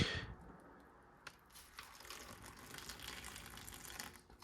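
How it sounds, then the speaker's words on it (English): Water poured from a container, splashing and spilling while a Chinese Navy self-heating ration pack is prepared, a close, steady gushing hiss after a brief sharp start. "Well, already spilled some water."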